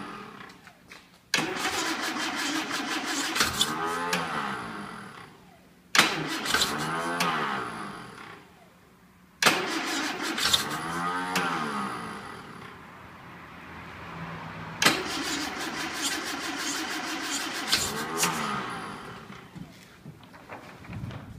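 A 1967 Humber Hawk is cranked by key on its starter motor. The engine turns over in four separate attempts, each a loud whirring churn that rises and then stops, with short pauses between them.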